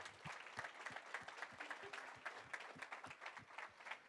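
A small audience applauds the action takers at a real estate coaching event, the clapping steady and fairly faint, with sharp individual claps standing out.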